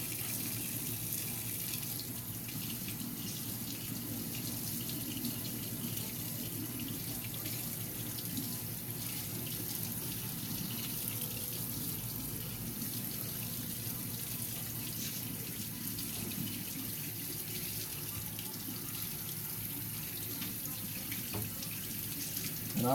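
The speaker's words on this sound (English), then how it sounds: "I'm going to wash it twice because I want to make sure I get it good" Water runs steadily from a sink faucet while hair is washed under it, a continuous close splashing hiss that holds for the whole stretch with no talking.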